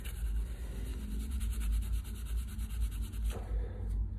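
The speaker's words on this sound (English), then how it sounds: "if I'm giving this a good wipe with the Everbuild, it is taking it off" A cleaning wipe is rubbed back and forth over a rusty saw blade, producing steady rhythmic scrubbing strokes that sound close and dry against a low background hum.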